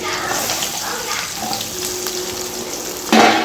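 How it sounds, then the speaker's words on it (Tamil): Amla gooseberries hit hot oil for pickle, a steady hissing sizzle that jumps into a louder, sharper burst of frying near the end. "இப்போ நம்ம நெல்லிக்காயை இந்த எண்ணெயில் போடலாம்."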